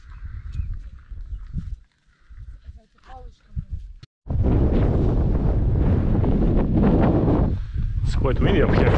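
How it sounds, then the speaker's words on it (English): Strong wind high in the Valle Brosque, Tenerife, buffets the microphone with a loud, continuous roar after a few seconds of quieter gusty rumbling and faint voices. "Quite windy up here,"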